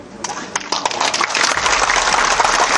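Applause from a political rally crowd builds into a dense, sustained clatter of many hands, with scattered cheering mixed in.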